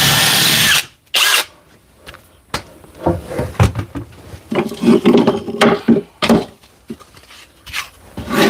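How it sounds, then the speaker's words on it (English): A power drill bores holes in wood during a carpentry build of a drawer cabinet, loud and close, with a long opening whine and several short bursts separated by clattering handling. "And I've drilled these holes."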